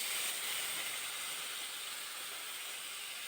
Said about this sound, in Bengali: এবার দিয়ে দিলাম মশলা মাখানো মাছ।